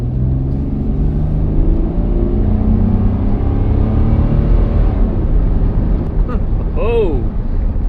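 An old car with a modest, torquey V6 engine driving on a road, a steady low engine drone and rumble throughout with road noise, close and loud, with a brief higher whine near the end.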